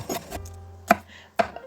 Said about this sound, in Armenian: սոխն էլ կտրատում եմ